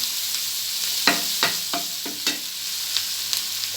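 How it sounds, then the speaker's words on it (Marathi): Coriander leaves fry and get stirred in hot oil while making a spiced cauliflower curry, with a steady sizzle broken by several sharp spoon scrapes against the pan, close and loud with no talking. "तेलामध्ये जरा परतून घ्यायची कोथिंबीर"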